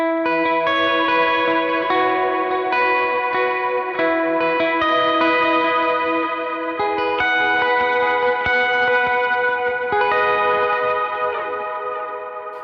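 Electric guitar on a worship pedalboard, played through a Stomp multi-effects unit with its extra reverb foot switch engaged, rings out in sustained chords with a lush, washy ambient tail, loud and continuous throughout.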